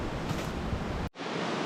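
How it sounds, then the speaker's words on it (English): A waterfall on a winter brook roars as a steady, loud broadband rush, cutting out abruptly for a split second before resuming. "Now we think we're nearing the end of the actual waterfalls, and this is one of the bigger ones"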